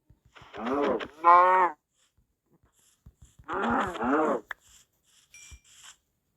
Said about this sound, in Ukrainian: О, ще коров якраз. На корів.